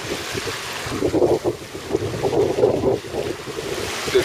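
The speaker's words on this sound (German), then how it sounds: "ihr hört schon, ich habe die Maschine zugeschaltet" A sailboat's auxiliary engine runs as the boat enters a harbour near Rotterdam. A low, throbbing motor sits under gusting wind noise and water sounds for a few seconds.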